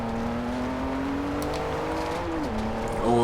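A 2015 Volvo S60 Polestar in the racing game Forza Horizon 2 on Xbox One, its engine droning steadily at close range, pitch holding then dipping and climbing again as it accelerates out of a corner.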